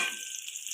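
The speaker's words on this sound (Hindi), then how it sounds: "अब हमने अंडे ज़रा फ्राई हो जाए" Eggs fry in a pan beside a nearly finished potato curry, a brief, bright and even sizzle with no talking.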